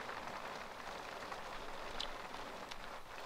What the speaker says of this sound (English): Don't be out in the hail.